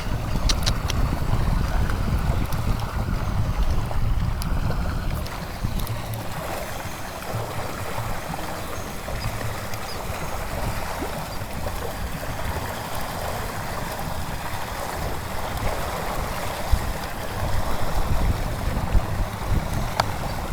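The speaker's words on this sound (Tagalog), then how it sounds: "lakas ng hangin guys kaya" Steady, heavy wind roars and buffets for the whole stretch while fishing, a dense low rumble with rushing noise over it, strong and continuous with no voices.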